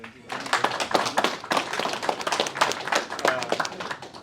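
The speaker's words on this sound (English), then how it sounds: "A round of applause" Applause from a group welcoming a football club signing, dense continuous clapping at moderate loudness for several seconds, with some voices mixed in.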